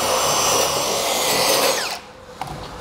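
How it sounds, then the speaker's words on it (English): An abrasive cup bristle brush on a power tool scuffs roofing flashing for a torch-down scupper install, a loud whirring scrape that cuts off after about two seconds, leaving a quiet room with a small knock. "scuff it up with an abrasive brush"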